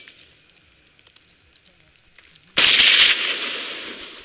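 A loud grenade blast bursts up suddenly partway through a PUBG Mobile custom-room battle, following a quieter stretch of faint game ambience, then slowly decays into a roaring rumble.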